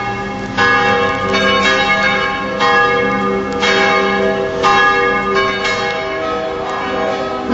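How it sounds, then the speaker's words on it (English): Church bells ring out loudly from a tower in Lucerne, Switzerland, overlapping strikes repeating in a steady peal with rich, lingering resonance. "Oh, the bell tower is ringing."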